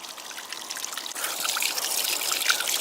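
Cold water trickles and splashes from a small stream in the Japanese countryside, a close, steady babble that grows fuller and louder partway through.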